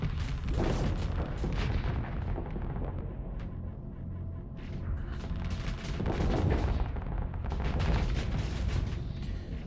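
Giga Cannons fire in a space strategy game, a dense barrage of heavy booming blasts and rumbling explosions layered continuously at loud, thick volume without speech.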